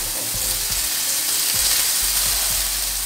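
Food frying loudly in oil in a pan while a spatula presses down on it before flipping, a dense close sizzle with a few low thuds from the pressing.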